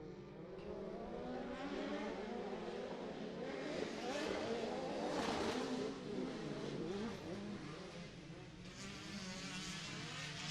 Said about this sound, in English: High horsepower coming out of 4 cylinders as they make their way into the back section